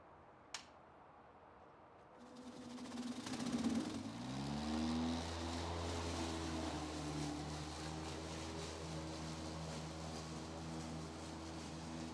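A lawn mower starts with a brief click, then its engine spins up and settles into a steady, loud drone at its highest setting, running alone without talk for about ten seconds.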